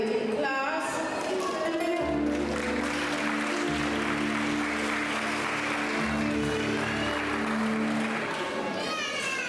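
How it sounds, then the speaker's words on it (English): Applause from a crowd at a primary and infant school graduation ceremony, with a sustained tonal hum and possible music running beneath the dense clapping throughout. "I'd also like for us to give a round of applause to the graduating class."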